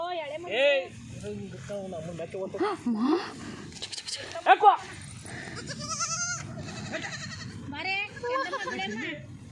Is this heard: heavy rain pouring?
no